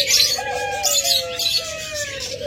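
Pet lovebirds and budgerigars in an aviary give dense, overlapping high chirps and tweets. The chatter is close and continuous, with no talking.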